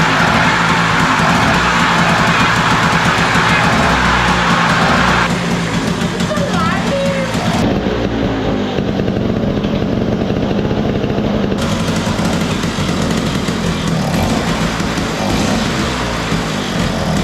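A small LML Vespa-style scooter engine idles roughly and unevenly close by, sputtering under other background noise.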